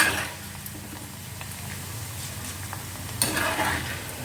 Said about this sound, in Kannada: ಎಣ್ಣೆ ಚಲೋ ತಂಗ ಕಾದಿರಬೇಕು ಅಂದ್ರೆ ಇವು ಅವಲಕ್ಕಿ ಪ ಪಟ ಪಟ ಅಂತಂದೇಳಿ ಕರೆದ್ಬಿಡ್ತಾವೆ